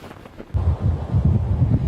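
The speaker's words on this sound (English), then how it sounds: "Winds are gusting easily between 80 to 100 kilometers per hour." Strong storm winds gusting at 80 to 100 km/h buffet the microphone on the Whitby waterfront, a quiet moment giving way to a loud, rumbling, continuous roar that swells in repeated surges.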